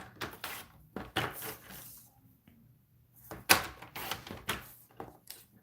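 Paper being cut into two one-inch strips for a handmade card, giving a few close, crisp snips and rustles in short bursts with quiet pauses between, no talking.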